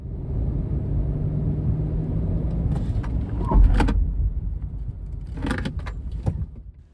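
A 2001–07 Toyota Sequoia makes panic stops during a brake test on a road drive, with a steady low vehicle rumble inside the cabin and a few brief clunks and rattles as it slows.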